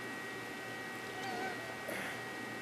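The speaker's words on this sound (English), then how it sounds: "this is one of the cats," A pet cat indoors gives a couple of faint, brief meows over a steady low room hum.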